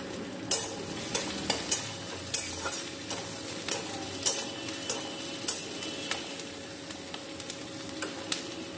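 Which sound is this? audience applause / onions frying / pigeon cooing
onions frying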